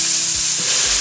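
Bacon hits a hot pan of olive oil and erupts into a loud, continuous sizzle, an even frying hiss with light stirring scrapes, close and without voices.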